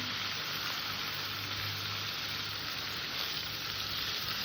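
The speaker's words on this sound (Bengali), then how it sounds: "একদম হালকা করে একটু ভেজে নেবো" Shrimp frying lightly in oil in a pan, a steady, dense sizzle that holds evenly and fairly loud throughout, with no voices over it.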